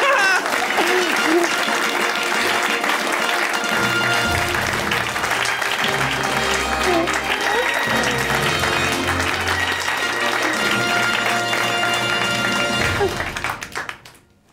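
A live comedy audience at a Gery Seidl show applauds steadily and loudly as a performer is welcomed onstage, with music underneath, before the clapping fades out at the close.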